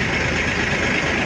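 A Swaraj 855 FE 5 Star tractor with side gear and 16-inch tyres idles with a steady, loud diesel rumble, continuous and close.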